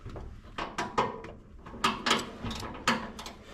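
A ratchet wrench works on a race car, producing repeated short ratcheting clicks in uneven bursts, close by and moderately loud with no talking.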